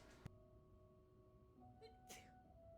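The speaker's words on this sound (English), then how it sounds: "I'm sneezing." A person sneezes once, a short sharp burst rising over quiet, steady electronic tones from a video game playthrough, with a smaller breathy sound earlier.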